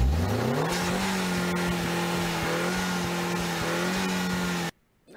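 A Ford Mustang's turbocharged 2.3 EcoBoost petrol engine of 317 hp revs and holds a steady, buzzy drone with small pitch wobbles, then cuts abruptly to near silence.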